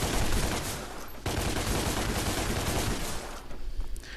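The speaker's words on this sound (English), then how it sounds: "Then you've got Ebony and Ivory," Rapid gunfire from the twin pistols Ebony and Ivory in the video game DmC Devil May Cry, a dense, continuous volley with a brief break partway through, loud and up front with no one talking.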